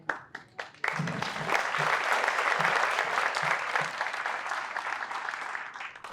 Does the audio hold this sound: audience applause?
yes